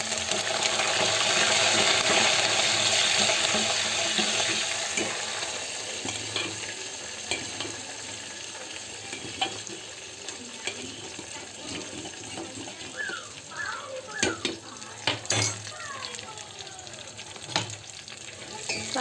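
Tempering spices of dried chilli, small onion, curry leaves and cumin sizzle in hot oil, a loud crackling burst that fades into softer frying with scattered clinks and stirring.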